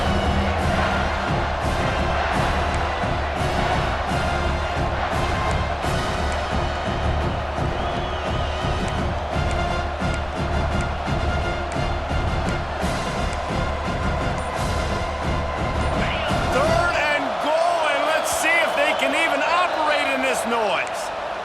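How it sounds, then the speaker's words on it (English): A loud, roaring stadium crowd cheers without pause in EA Sports College Football 26 while the defense tries for a red-zone stop, then drops away abruptly to quieter ambience near the end. "The crowd getting behind this defense as they try to get a stop in the red zone"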